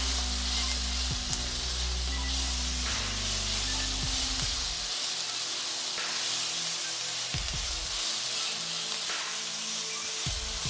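Pork mince browns in a hot pan with a steady, close sizzle and hiss, broken by a few low thumps as the meat is stirred or moved.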